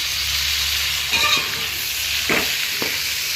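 Chopped tomatoes hit a hot pan for a mixed vegetable rice dish, giving a steady close sizzle with a few distinct scraping stirs of a spoon over the frying hiss.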